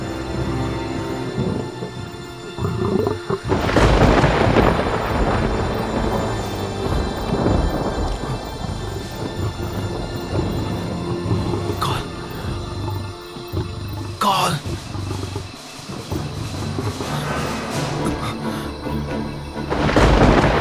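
A thunderstorm in a Tamil-dubbed Hollywood film, with loud rolling thunder cracks and rumbles over steady heavy rain, continuous and close throughout.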